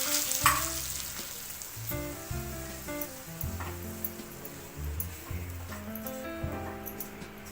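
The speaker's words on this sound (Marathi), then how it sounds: "कढईमध्ये तूप टाकूया आपल्याला रवा रवा भाजायचा आहे" Fine semolina roasting in ghee in a pan with a gentle sizzle and scraping strokes as it is stirred, while tonal music plays softly in the background.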